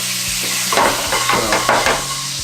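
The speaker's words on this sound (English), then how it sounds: "We just want to deglaze it." Venison pan being deglazed on lowered heat, a steady loud sizzle with bursts of bubbling and a few stirring scrapes throughout, no talking.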